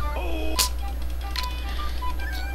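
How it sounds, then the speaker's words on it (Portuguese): A computer mouse clicks a few times, sharp and distinct, during play of the Cookie Clicker game, over quiet game chimes and tones. "Desculpa galera se estiver saindo o som do mouse, né? Que eu tô clicando."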